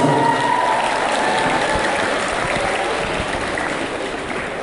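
Loud, steady applause from a school audience at a youth dance tournament, a dense wash of clapping that carries on without pause and fades only slightly toward the end.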